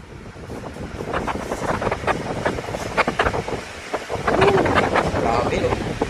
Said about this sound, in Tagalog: turn on the fan